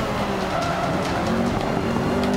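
Honda race car in the Forza Motorsport racing game braking hard and sliding into a corner, a steady engine drone with tire squeal layered over it, loud and continuous for a couple of seconds.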